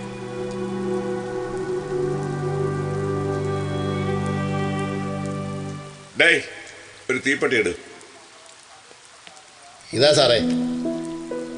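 A heavy rain sound effect plays during a stage skit, a loud, steady wash for about six seconds before it drops away and people talk in short bursts on stage.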